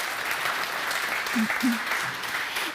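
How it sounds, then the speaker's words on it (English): Warm audience applause welcoming a speaker at a cloud technology panel event, steady close clapping sustained throughout, with a couple of brief low voice sounds underneath. "Welcome and a warm applause."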